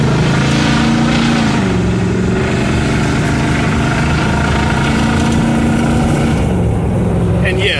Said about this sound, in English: I did just drift that turnaround